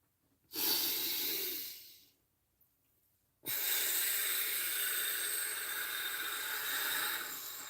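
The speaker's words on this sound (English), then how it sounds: "let's do some nice, deep cleansing breaths" Deep cleansing breaths, one long audible exhale followed by a pause, then a second long, slow breath out, close and alone.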